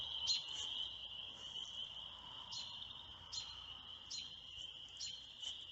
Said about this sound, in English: there's a robin, I think, that's a little upset because I think I found the robin's nest